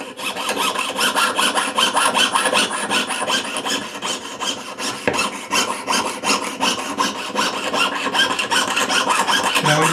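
Jeweller's saw rasping through metal sheet in quick, even back-and-forth strokes, close and steady with one brief pause midway, no talk.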